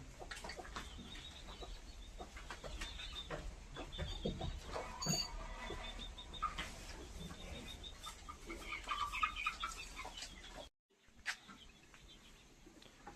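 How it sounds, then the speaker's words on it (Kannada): Chickens cluck in a village yard, faint and distant under a steady hum of outdoor background noise, with scattered soft calls running on throughout and a short gap near the end. "ಗೈಸ್ ಕೋಳಿಗಳು ನೋಡಿ ಗೈಸ್."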